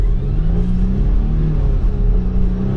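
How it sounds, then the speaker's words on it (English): A loud engine revving steadily in a 2021 Volvo XC60 T8 Recharge plug-in hybrid in power mode, a deep droning rumble with rising whir as it accelerates, continuous and close throughout. "Instantly you hear the engine start kicking in."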